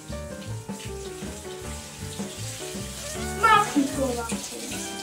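Water runs steadily from a tap into a sink while feet are washed, a continuous splashing rush with voices talking over it.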